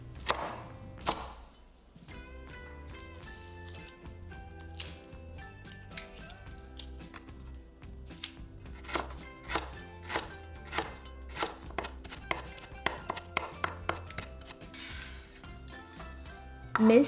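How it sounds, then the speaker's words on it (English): A knife mincing lemongrass on a cutting board makes sharp, rapid taps that come in irregular bursts and then settle into a quick, steady chopping rhythm, close and clear. "Mince the lemongrass."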